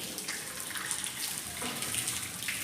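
Running water splashes steadily during wudu ablution as the mouth is rinsed, a close, continuous tap-like flow with faint sloshing throughout.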